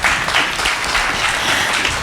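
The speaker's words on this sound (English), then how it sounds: "let's applaud that" A studio audience applauds in a steady, dense burst of clapping that lasts throughout, loud and close, with no voices over it.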